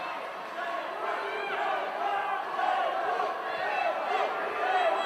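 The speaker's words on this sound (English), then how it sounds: "The crowd now chanting for tables." A wrestling crowd at an indoor show chants in unison, a loud rhythmic wash of many voices that rises and falls over several seconds, with no single speaker standing out.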